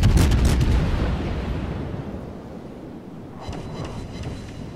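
Ship gunfire in World of Warships while firing on the Pensacola: heavy, continuous rumbling booms and blasts that fill the sound, loudest at first and then easing off, with no talk.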